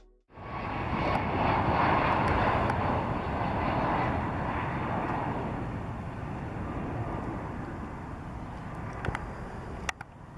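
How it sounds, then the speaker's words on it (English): Boeing 767 on a landing approach near a steep runway embankment, its engines roaring loud and steady from close range and slowly easing off, with a few brief clicks near the end. "Check out the landing of a Boeing 767 that almost went wrong"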